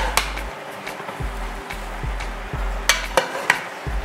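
A pot overfilled with Jamaican curry shrimp and vegetables being stirred, with soft scraping and a few sharp clinks of the spoon against the pot over a low steady kitchen hum.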